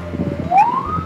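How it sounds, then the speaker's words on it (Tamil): An ambulance siren gives one rising wail that swells briefly and settles into a steady tone, loud and close, heard from inside or beside the vehicle. "இந்த சைரன் யூஸ் பண்ணுவோம்"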